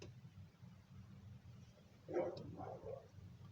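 A pit bull barks outdoors in a yard, a few distant, faint barks over steady background noise.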